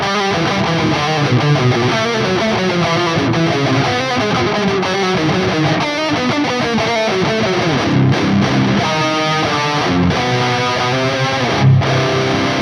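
A dense, heavily distorted electric guitar riff plays continuously at loud volume, with chugging low notes and a busy pattern shifting up the neck.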